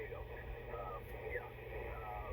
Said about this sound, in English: I think currently I'm picking up a lot of atmospheric noise on that.